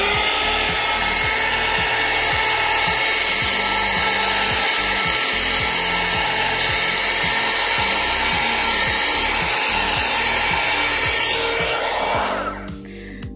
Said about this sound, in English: let's go ahead and see what it looks like with the heat gun.